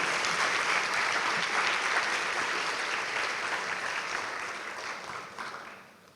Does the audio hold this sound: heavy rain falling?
no